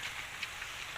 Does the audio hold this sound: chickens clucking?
no